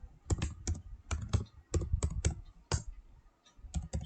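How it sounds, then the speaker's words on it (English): Rapid clicking keystrokes on a computer keyboard come in quick bursts of several presses with short pauses between them. The typing is close and clear, with no voices over it. "I will type down the order."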